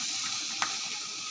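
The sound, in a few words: stirring cabbage cooking with catla fish head in pan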